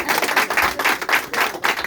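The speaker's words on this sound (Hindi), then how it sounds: "एक जोरदार तालियां हो जाए।" Rhythmic group clapping at a Women's Day celebration held by Amway team members at a Jammu college, steady evenly spaced claps in a continuous burst from a nearby crowd.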